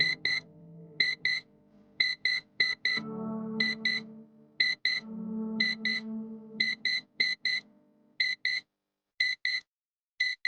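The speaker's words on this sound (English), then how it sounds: "When the carbon monoxide concentration exceeds 50 ppm, the CO detector will sound an alarm." A portable carbon monoxide detector sounds its alarm as sharp high beeps in repeated quick clusters, clear and fairly close, with a lower background tone in the middle and no talking.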